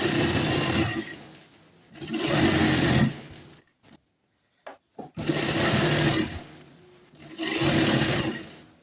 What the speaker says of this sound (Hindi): अब हमने इसके ऊपर सिलाई लगा देनी है प्लास्टिक को।